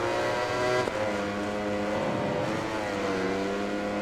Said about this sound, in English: A Ducati blasting past a Yamaha.